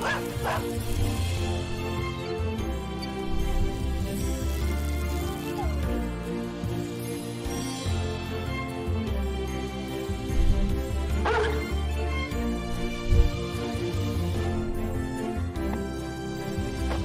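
A dog barks with short yips and whimpers, repeated throughout over a dense background of music or video sound, with a few sharper bursts standing out.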